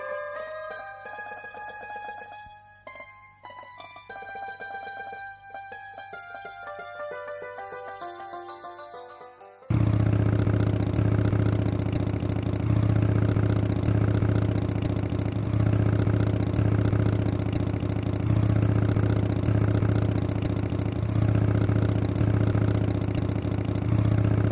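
Music plays first, then a motorcycle engine runs in a steady, even drone, close and fairly loud, with no talk over it.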